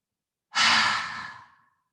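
A single forceful exhale pushed out from the abdomen during yoga breathing: a loud, breathy rush that starts sharply and tapers away over about a second, alone and close up.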